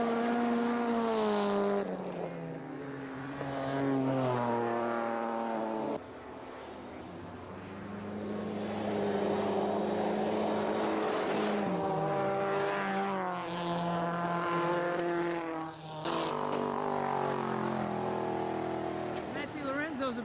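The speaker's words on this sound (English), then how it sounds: "This is Dave Clark in the 323 GTX Mazda all-wheel drive." A Mazda 323 GTX all-wheel-drive race car runs at a race meeting, its engine note rising and falling through gear changes over about twenty seconds, heard beneath steady commentary.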